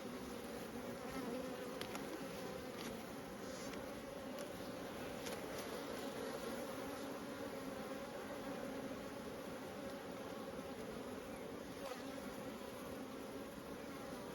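Honey bees from two hives amalgamated into a single colony hum steadily throughout, a dense, continuous buzz close by with no voices.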